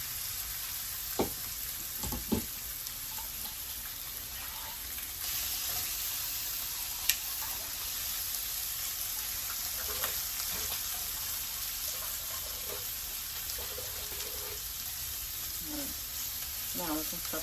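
Food sizzling and frying in a pan on the stove, a continuous dense crackle with a few clinks of utensils, steady at moderate level throughout.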